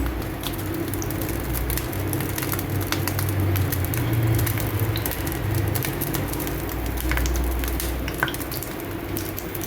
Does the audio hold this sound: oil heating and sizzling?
yes